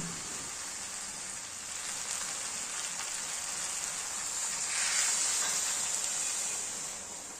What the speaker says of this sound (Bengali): এবার ভালো করে নাড়াচাড়া করে জল দিয়ে দেব